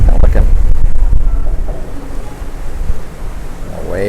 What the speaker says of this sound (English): The waves are really slamming up against that jetty.